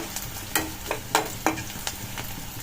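Sliced onions fry to golden brown in a pan under a steady low sizzle, with a series of sharp scraping stirs from a spoon at irregular intervals; nobody speaks.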